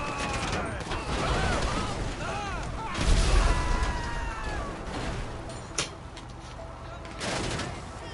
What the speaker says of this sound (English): Wait, who's still shooting at me?